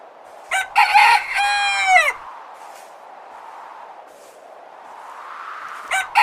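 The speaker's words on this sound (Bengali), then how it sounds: "মোরগ ডাকছে, কিন্তু এখনো এত অন্ধকার কেন?" A cartoon rooster crows once, loud and near, a long rising-then-falling cock-a-doodle-doo, followed by quiet ambience and a short burst of sound at the end.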